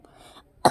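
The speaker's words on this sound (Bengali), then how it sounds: "আমার অনেক বেশি কাশি" A person gives a single sharp cough near the end of a short, otherwise quiet moment, close and abrupt.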